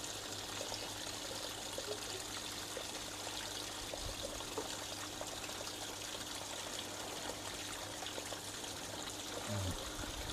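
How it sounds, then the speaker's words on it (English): Water trickles steadily as it is poured to top up an aquarium tank, a continuous close, fairly quiet dribbling stream with no talk over it. "All I do is I top the water up until it comes up to the top of that ridge over there."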